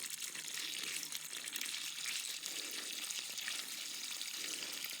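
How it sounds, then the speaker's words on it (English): Spring water flowing steadily from a hillside spring on a family farm, a constant soft hissing rush with no voices. "The water just keeps flowing."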